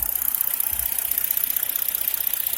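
A 2010 Hyundai Genesis Coupe with a 3.8L engine and six-speed manual idles steadily, a smooth, even hum held close with no voices over it.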